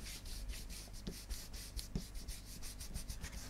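An ink blending brush rubs Broken China ink across embossed craft paper for a metallic gilded background, with steady, rhythmic up-and-down scrubbing strokes, close and continuous.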